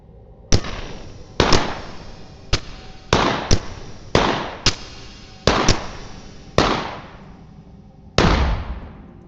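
Pistol shots fired in the video game Hiraeth: about ten sharp, loud reports at irregular intervals, each with a short echoing decay, with no talking.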